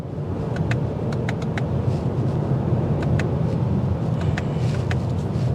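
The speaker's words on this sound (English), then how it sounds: "it kind of takes the wind noise that comes in out, because today's a bit of a windy day" Wind rushes steadily around the cabin of a 2024 Lexus ES 350 F Sport driving on a windy day, a broad hiss over low road drone, punctuated by brief ticking clicks.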